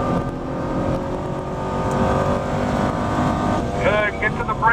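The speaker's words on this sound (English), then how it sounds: "Accelerating down the back straight for me." Camaro or Corvette accelerating hard down the back straight at Spring Mountain Motorsport Ranch race track, a steady loud engine drone with rising harmonics near the end, under an instructor's talk.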